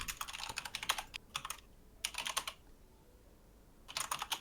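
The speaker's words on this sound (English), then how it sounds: "Yeah, we can still hear you typing" Someone typing on a computer keyboard over a voice chat during a Rocket League hoops tournament, quick bursts of clicky keystrokes separated by short pauses, close and fairly quiet against a faint hiss.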